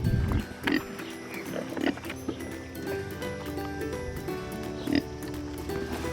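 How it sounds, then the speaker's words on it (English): Pigs being fed fruit, giving several short grunting oinks at irregular intervals among rustling and shuffling close by, while a voice talks throughout. "let me feed the pigs this fruit real quick"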